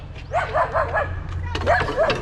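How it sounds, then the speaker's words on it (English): A dog barks in a quick run of four yips, pauses, then barks twice more at a moderate distance, over a low steady hum and outdoor background noise. "And her dog's barking now."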